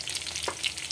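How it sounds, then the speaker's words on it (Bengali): Eggplant frying in hot oil in a home kitchen, heard as a brief, steady sizzle with a faint stir or scrape partway through and no voices. "বেগুনটা আর্ধেক ভাজা হয়ে গেছে।"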